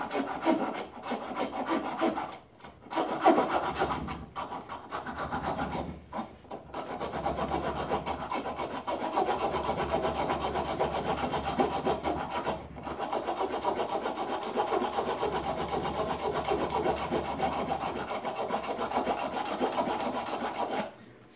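Steady rasping of a hand rasp across wood, a continuous coarse scraping that runs for most of the stretch with brief pauses between strokes, close and fairly loud with no talking.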